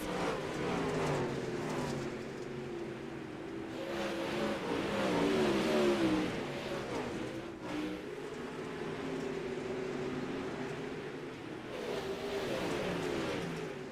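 Several dirt-track race cars battle for fourth place, with engines revving and roaring in a loud, steady blend that swells as they pass close.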